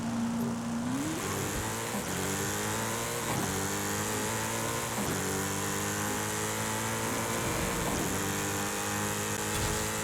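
A 1200-plus horsepower LS7-powered Chevrolet Camaro Z/28 drag tune in Forza Horizon 5 accelerates hard from a roll, its engine climbing loud and continuous through several upshifts with brief dips at each gear change, with no voices.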